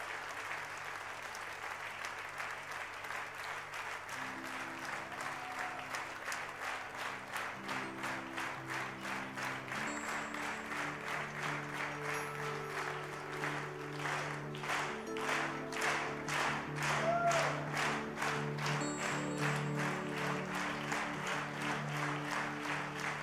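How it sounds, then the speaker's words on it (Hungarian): Church congregation applauding at length, a steady wash of clapping that grows slightly louder toward the middle, heard from a moderate distance while a low musical tone plays beneath it. "És külön egy nagy tapsot adjunk azoknak, akik először vannak a körömben."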